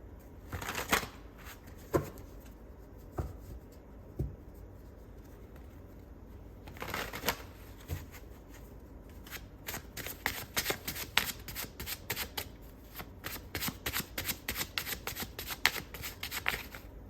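Tarot cards shuffled by hand nearby, starting with a few scattered riffles and flicks and then settling into rapid, continuous crisp shuffling.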